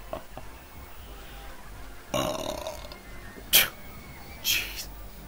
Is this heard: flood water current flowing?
no